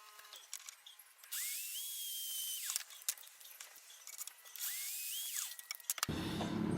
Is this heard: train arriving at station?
no